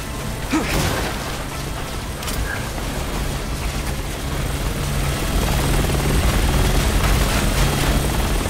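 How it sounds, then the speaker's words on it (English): A helicopter pulls back in the video game Resident Evil 6, its rotor drone steady and moderately loud beneath mechanical clanks and creaks, with a few sharp pops early on. "The chopper's pulling back!"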